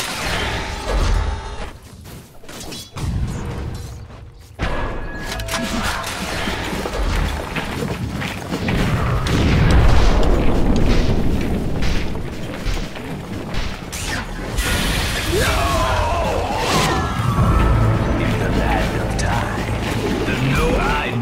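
Dota 2 battle at the Dire's middle tower under attack: dense, continuous clashing and crashing combat sounds with mechanical clanks and impacts, loud throughout with no pauses.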